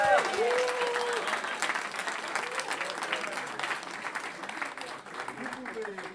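An audience at a hackathon prize announcement claps warmly, sustained applause with a few cheers and shouts mixed in, loud and continuous throughout.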